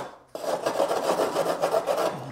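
Sandpaper rubbed by hand over a fiberglass bumper in a garage, a close, steady rasping scrape in quick repeated strokes, heard alone.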